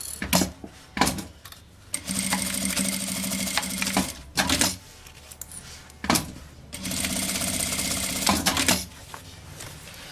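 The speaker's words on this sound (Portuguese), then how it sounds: "vou passar a costurinha na pontinha da alça" Sewing machine stitching the end of a backpack strap, running in two long loud bursts with short stops and handling clicks between them.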